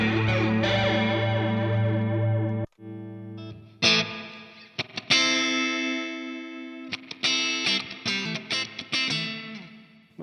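Electric guitar chords and single notes through Valeton GP-200 factory presets, distorted and shimmering with chorus and echo, broken by short pauses and quick strummed bursts.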